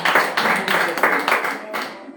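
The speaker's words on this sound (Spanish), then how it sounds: "Denle un aplauso a Cristo por todos los que cierran los bolsos." Church congregation clapping in a burst of uneven, rapid hand claps that fade out after a couple of seconds, with a voice mixed in underneath.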